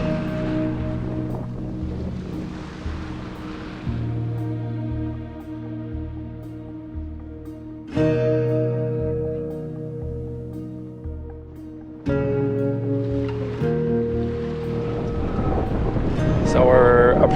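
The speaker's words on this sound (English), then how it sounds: "So we're approaching the sea organs. We can already hear them loud and clear." Zadar's sea organ sounds as waves and wind push air through pipes under stone steps by the sea: long, overlapping, breathy organ tones shift in pitch every few seconds, with wind buffeting the microphone and waves washing beneath, and people talking nearby.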